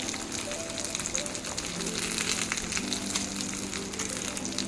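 Dried red chilies sizzle and crackle in hot oil for a tempering, a steady dense frying hiss running close and continuous throughout with no talk.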